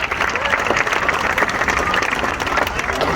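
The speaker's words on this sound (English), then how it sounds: "You can give him a clap if you like." A zoo audience at Taronga Zoo in Sydney claps for Cisco the seal, a steady, dense round of applause from a sizeable crowd that runs throughout without a break.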